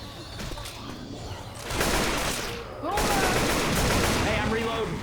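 Bursts of gunfire in the zombie shooter Left 4 Dead 2, steady loud rattling shots that intensify partway through, with chaotic game effects layered over the firing.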